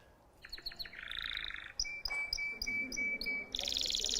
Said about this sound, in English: And we learn to listen to the birds.